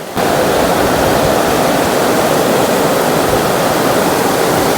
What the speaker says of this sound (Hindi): थोड़ी सी पानी की आवाज़ आएगी